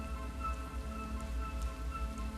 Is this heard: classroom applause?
no